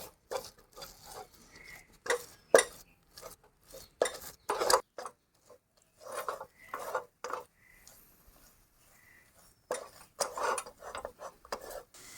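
A spoon clinks and scrapes against a pot in short, irregular bursts with quiet gaps between them as a spoonful of ghee is stirred into a milk powder mixture for village-style apple sandesh.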